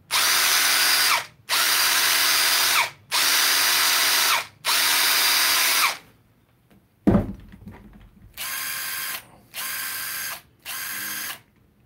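A Ridgid impact driver fires in repeated bursts of about a second each, a loud, harsh rattling hammer with short pauses between, then a clunk and three more quick bursts close to the mic.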